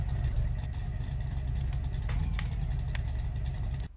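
A 1959 DeSoto truck engine runs steadily in first gear, a strong low rumble with a few faint clicks and knocks over the top, cutting off abruptly at the end.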